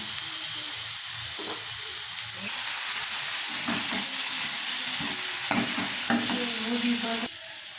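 Onion sizzles in a pan with cumin and mustard seeds, a steady close hiss broken by repeated scraping and clattering stirs, with no voices.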